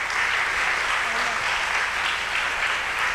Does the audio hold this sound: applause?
yes